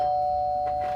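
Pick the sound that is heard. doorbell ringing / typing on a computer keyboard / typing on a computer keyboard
doorbell ringing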